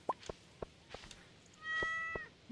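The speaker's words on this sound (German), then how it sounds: "Miaut." A cat meows once in the video game Stardew Valley, a clear drawn-out meow following a series of soft, sparse clicking taps over a quiet background.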